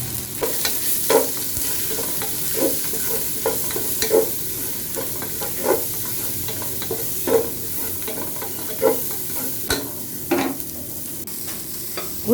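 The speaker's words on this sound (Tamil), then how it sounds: "இப்போ பொடி பொடியாக நறுக்குன வெங்காயத்தை சேர்த்துட்டு எல்லாத்தையும் நல்லா வதக்கிக்கலாம்." Finely chopped onions sautéing in oil with whole spices and bay leaf for a vegetable kurma, with a steady sizzle broken by repeated scrapes and stirs of a spoon in the pan.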